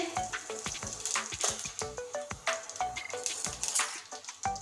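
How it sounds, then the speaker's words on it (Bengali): Cumin seeds crackling and sizzling in hot mustard oil in a kadai, with close, irregular sharp pops and spits over a steady frying hiss. "আজকে ফোড়নে দিচ্ছি জিরে"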